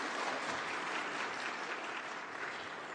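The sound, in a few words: applause in the General Assembly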